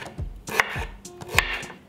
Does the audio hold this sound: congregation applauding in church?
no